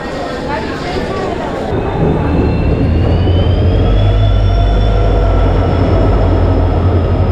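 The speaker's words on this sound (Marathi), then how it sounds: "पुणे इंटरसिटी एक्सप्रेस आलं आहे" The Pune Intercity Express rolls in close by at a platform with a deep, building rumble and faint high wheel squeals, while voices murmur on the platform.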